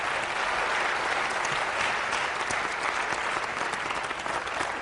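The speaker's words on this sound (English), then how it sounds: "can we give a round of applause to these three candidates?" A crowd gives loud, dense, sustained applause for three candidates at a 2020 Kansas US Senate Republican primary debate, a steady wash of clapping from start to finish.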